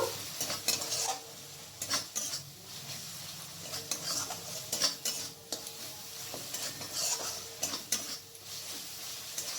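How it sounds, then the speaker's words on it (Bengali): Spice masala loosened with a little water fries in a pan for a paneer dish, a soft low sizzle broken by repeated spoon scrapes and clinks against the pan, with no talking. "এরপর সামান্য একটু জল দিয়ে মশলাটাকে ভালো করে ভেজে নেব।"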